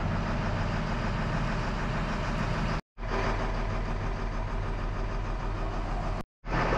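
A car engine drones steadily while driving, a low, even rumble with road noise that cuts out briefly twice, fairly quiet and with no voices.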